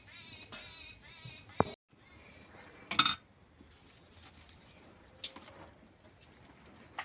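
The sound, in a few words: birds chirping loudly in the morning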